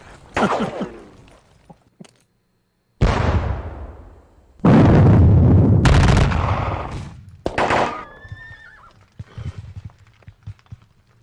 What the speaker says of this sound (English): Silence is occasionally punctuated by the sound of gunfire.